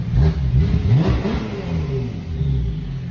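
A Turbo S car engine revs repeatedly in loud, close bursts of rising and falling pitch before settling toward a steadier idle.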